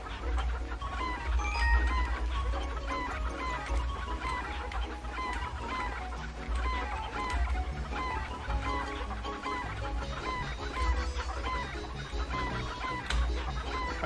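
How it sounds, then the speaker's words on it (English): A video game minigame's chickens cluck without pause as they are herded toward a cage, the dense repeated clucking running throughout over a steady game backdrop and no talk. "Can't make the chickens enter the cage."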